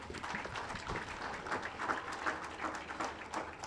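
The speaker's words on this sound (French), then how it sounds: "Merci d'applaudir." Applause from an audience at a formal public event, a moderately quiet, continuous patter of clapping from a gathered crowd, fairly even with small swells.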